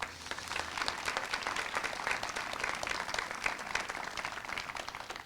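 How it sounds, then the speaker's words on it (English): An audience at an elementary school open house applauds steadily, a dense patter of many hands clapping at moderate volume for about five seconds. "Round of applause for all of them."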